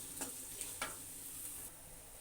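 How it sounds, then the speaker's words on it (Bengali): Chopped onions with slit green chilies frying in a pan, giving a faint, steady sizzle with a few soft scraping stirs near the start. "এবার পেঁয়াজ কুচিগুলো দিয়ে দেব। এখানে আমি 2টা কাঁচামরিচ ফালি দিয়েছি। পেঁয়াজগুলো ভেজে বাদামি কালার করে নেব।"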